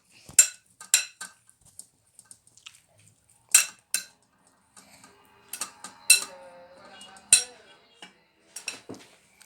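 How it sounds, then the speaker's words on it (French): A vegetable salad is tossed in a bowl with utensils, making sparse, crisp clinks and ticks in short bursts separated by near silence. "On va mélanger maintenant"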